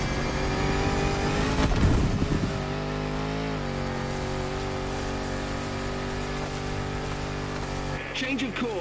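A 400-horsepower engine in a 70-year-old Land Rover Defender in The Crew Motorfest, holding a steady, loud droning hum with a brief surge of revving early on, under a speaking voice.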